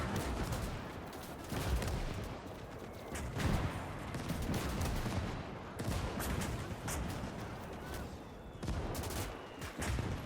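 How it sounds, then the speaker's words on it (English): Dense machine gun fire from MG crews in a Gates of Hell battle, a German gun fortress defense, rattles almost nonstop for ten seconds, with bursts and heavy shots packed together in a loud, chaotic barrage. "the MG crews are working for full effect too"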